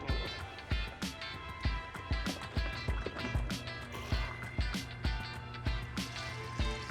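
A sluice pump runs and pushes water through a leaking hose and down a gold sluice, giving a steady gushing, splashing flow with rhythmic pulsing knocks throughout.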